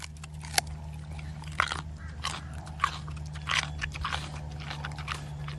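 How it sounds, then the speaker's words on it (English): Someone eating a pork chop close up: repeated crisp bites and wet crunchy chewing in irregular bursts over a low steady background hum, with no speech. "It's going to sound like I could hear you eating."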